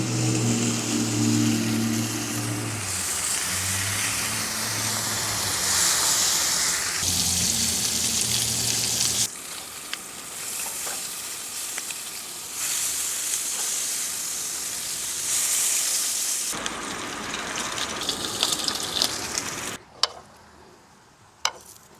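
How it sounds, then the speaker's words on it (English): Bacon fries outdoors on a new Coleman Triton camping stove, a loud, continuous spitting sizzle that shifts in tone across several sections, with a few louder clicks near the end. "Will it cook bacon?"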